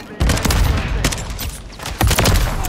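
Heavy gunfire in a sniping game match: dense, loud bursts of automatic fire and sharp shots crackle continuously, with surges at the start and again near the end, while a voice shouts briefly over the din.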